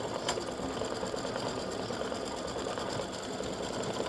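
An embroidery machine stitching a zigzag outline around a freestanding-lace Easter egg gnome design, a fast steady mechanical whirr and needle chatter heard close up, with no talking.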